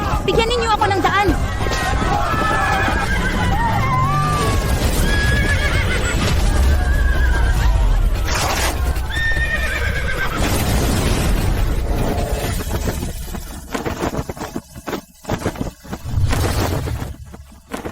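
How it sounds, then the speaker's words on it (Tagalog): A horse whinnies loudly and gallops along a road in a dramatic historical drama scene, hooves pounding under music and booming effects before the sound breaks up into short bursts near the end. "Mapanganib ang magpatakbo ng kabayo sa daan."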